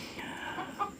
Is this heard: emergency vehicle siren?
no